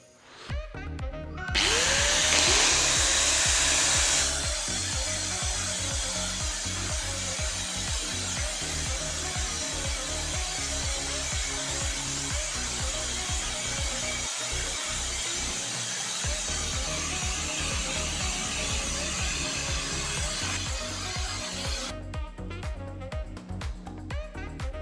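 A budget angle grinder, one of a group from Stanley, Doliz, Hasston, DCK and Ingco, runs under a vibration test, giving a loud, continuous high whine and motor roar for about twenty seconds without pause.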